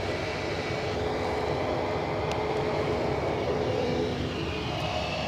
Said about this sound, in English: Just with the Ryanair on its rollout